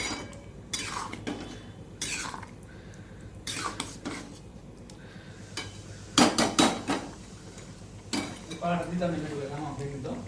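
A spoon stirs palak paneer in a metal pan, making sharp irregular clanks and scrapes against the sides that come in bursts, with people talking between and over the knocks.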